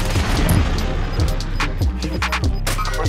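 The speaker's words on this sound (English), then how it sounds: "Precision airstrike missed." A precision airstrike in Call of Duty Warzone on Rebirth Island sets off a loud, dense run of overlapping blasts and crackling booms with rapid bursts, all packed together close by for about three seconds.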